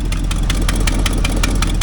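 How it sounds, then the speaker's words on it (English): A 2003 Hummer H2 with a 6.0L LQ4 V8 and a leaking exhaust manifold bolt idles up close, its loud, steady rumble carrying a rapid rhythmic ticking puff. "Runs, has a little bit of the old exhaust manifold bolt leak. You listen."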